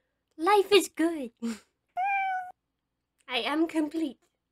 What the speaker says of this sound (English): I can pet the cat.